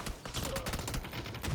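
Gunfire in a PUBG esports scrim: a quick, dense run of shots crackling together over a brief moment, with faint casting chatter in the background.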